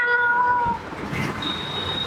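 A voice artist imitates a cat, producing a drawn-out, nasal meow with a clear tonal pitch that breaks off and then rises again into a thinner, higher wail, close and fairly loud with no talking over it.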